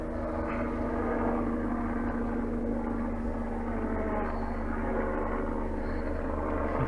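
A helicopter drones steadily overhead outdoors in a garden, a continuous engine and rotor hum holding at an even loudness throughout with no talk.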